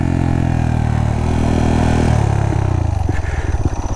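A 181cc Monkey motorcycle on a dirt trail, its engine droning loud and close, then dropping into a rough, chugging putter as it slows, with some clattering.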